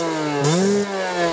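A 50cc Beta RR two-stroke motorbike engine idling close by, a loud buzzing harmonic drone that rises briefly in pitch as the throttle blips, then settles back.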